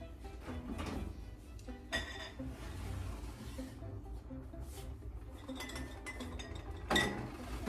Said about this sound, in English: So we're going to take our jars out of the oven, and we're going to start the process of preserving